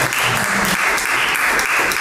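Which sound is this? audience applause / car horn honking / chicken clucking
audience applause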